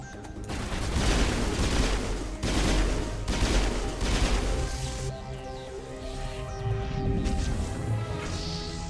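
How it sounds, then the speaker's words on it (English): Loud, close bursts of gunfire and impacts while shooting Geth in the video game Mass Effect, heavy volleys in the first half easing into lingering rumble and clatter. "Shoot the Geth in the thigh!"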